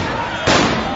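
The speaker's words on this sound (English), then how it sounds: "Flashbangs, rubber bullets, more flashbangs." A flashbang grenade goes off during a police clash with protesters in Oakland, a single loud broadband burst about midway through that lingers into a noisy crowd din, with background voices throughout.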